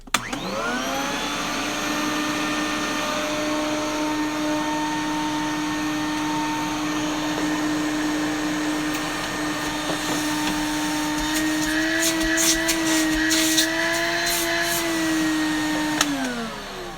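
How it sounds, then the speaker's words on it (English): An Electrolux Ambassador vacuum cleaner with a new, not yet broken-in motor runs steadily with a loud, constant whine that spins up at the start and winds down at the end, with faint clicks near the end. "the motor is making a little bit of noise because it is a new motor and it hasn't been broken in yet"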